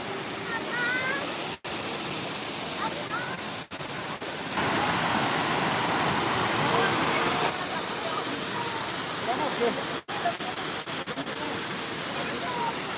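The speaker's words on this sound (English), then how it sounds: "Let's see the waterfall." Waterfall at the EPCOT Canada pavilion, a broad continuous rushing roar heard up close, with faint voices and a few brief dropouts.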